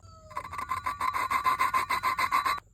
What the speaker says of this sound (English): just grab your lapping tool, stick it on, slide it in, twist it for about 3 to 5 minutes